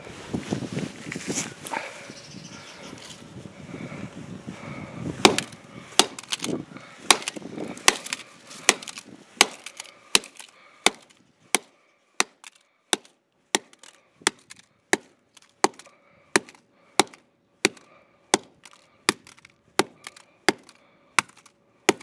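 A ball peen hammer strikes a camera again and again. Irregular cracking and rattling comes first, then settles into a long run of sharp, evenly spaced knocks, each loud and close. There is no talk.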